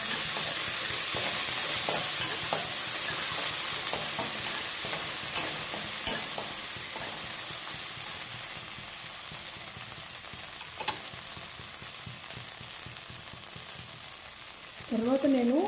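Ginger and garlic fry in a pan for gongura curry, giving a steady, close sizzle with occasional scraping clicks from stirring, and a brief burst of voice near the end.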